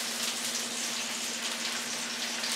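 Steak sizzles quietly in a pan, a steady, even crackle with a faint low hum beneath it.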